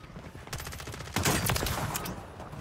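Rapid bursts of SMG fire in a Call of Duty match with an MCW conversion kit, starting around half a second in and growing louder and denser partway through, several sharp volleys with no talk.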